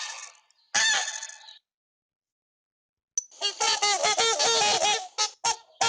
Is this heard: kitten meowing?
no